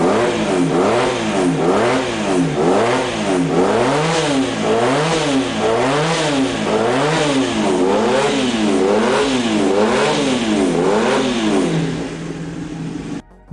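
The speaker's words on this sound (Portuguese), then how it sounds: "um vídeo dedicado somente ao motor da CB450 e seu som característico" Honda CB450 DX motorcycle engine revving repeatedly in a steady rising-and-falling pattern, loud and close, with a buzzy multi-harmonic tone that drops away near the end.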